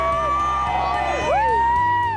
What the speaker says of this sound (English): Whenever you hear these people cheering for you, it gives you almost a drive